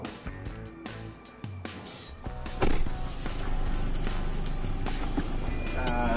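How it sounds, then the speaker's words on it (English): A Toyota Innova with a remapped ECU pulls out for a test drive: clanks and a door thud, then a steady engine and road noise build and continue at moderate level with faint clicks, no talk. "So we'll take it out of the dyno and do the test drive."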